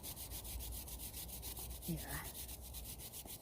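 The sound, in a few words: brush scrubbing degreaser into motorcycle chain adjusters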